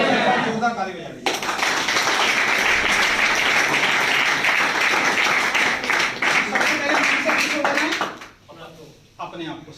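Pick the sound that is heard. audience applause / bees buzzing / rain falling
audience applause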